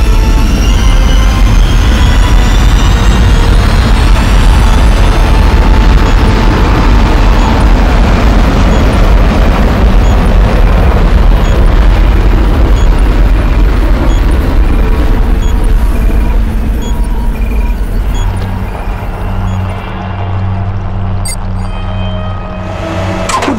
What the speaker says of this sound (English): Nuclear missile launch commenced.